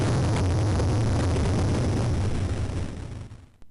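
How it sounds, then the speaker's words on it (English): A loud, roaring explosion as a car bursts into flames in a 1986 haunted-mansion adventure game bursts at once and then rumbles on as a dense, noisy blast before fading out at the end. "There is a mighty explosion behind you as your car bursts into flames"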